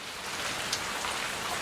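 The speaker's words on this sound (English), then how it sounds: "it's a rainy day" Steady rain falls on a rainy day as a dense, even hiss of drops on surfaces, with no voices and no change across the short stretch.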